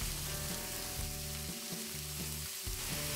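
Sliced onions with a piece of cinnamon, cloves and cardamom fry in hot oil for a spicy chicken gravy, a dense close sizzle under a faint steady hum, with a few clunks from the pan.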